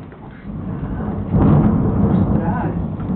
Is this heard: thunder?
yes